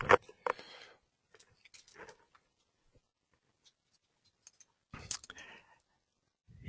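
A computer mouse clicks a few times in member check-in software, with sharp, isolated clicks separated by quiet pauses and no other sound.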